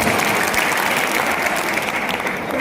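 A crowd at a Hindi-Urdu poetry recital claps loudly and steadily in dense, continuous applause.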